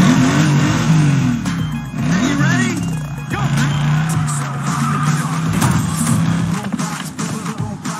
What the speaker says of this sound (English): don't be driving it like teenagers, revving up the engine